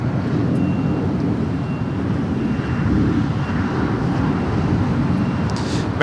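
Boeing 787 Dreamliner taking off at Los Angeles LAX, a steady broad jet-engine roar heard from a distance with some wind noise, no voices.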